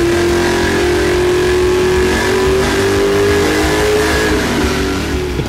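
An FSC Magazine LS1der car with a freshly installed FAST intake and throttle body revs hard on a dyno, a loud, sustained engine roar whose pitch climbs steadily through the pull, heard up close and alone.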